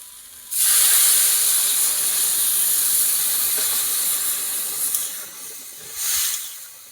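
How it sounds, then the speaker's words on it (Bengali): Water poured into a hot pan of fried salt, turmeric and mustard paste sets off a sudden loud steaming hiss that sizzles on for several seconds, fades a little, flares briefly once more near the end, then cuts off. "এই মুহূর্তে আমি জল দিয়ে দেবো।"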